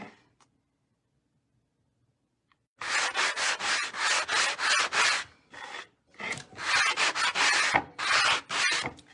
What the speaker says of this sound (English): now I'm gonna sand it with my sanding block